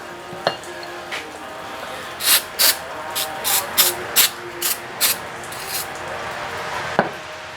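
A series of short hissing spray bursts from an aerosol can of starter fluid, about a dozen in an irregular rhythm, close by over low background noise.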